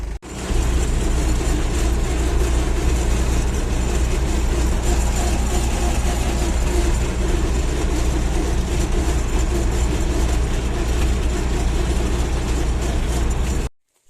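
An MTZ-80 tractor pulling an old PLN-3-35 plough through wet, sticky soil: a loud, constant engine drone with a rattling undertone throughout, cutting off abruptly at the end.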